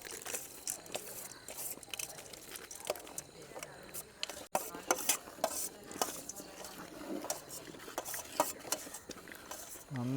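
Ada pradhaman with cashews and raisins being stirred in a pot in a Kerala kitchen, a steady run of scraping, clinking stirs throughout, with a voice talking over it.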